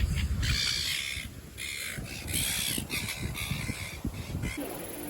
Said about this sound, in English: They really are the prettiest gulls. My goodness. But they are noisy.